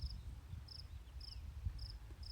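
A male cricket chirps in short, high, even bursts repeating about every half second, quiet over a low background rumble.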